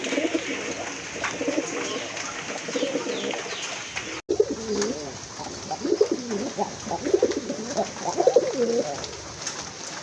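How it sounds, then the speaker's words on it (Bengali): Several Kolshi-neck (pitcher-neck) pigeons coo repeatedly nearby, their low rolling calls overlapping in a steady chorus, with one brief sharp knock partway through. "হ্যাঁ মাশাল্লাহ অনেক ডাকে কিন্তু এটা ডাকের সাউন্ড"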